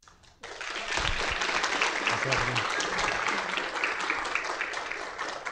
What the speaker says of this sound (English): it's with great pleasure that I get to recognize and applaud the dedication and hard work of Yolanda Hernandez.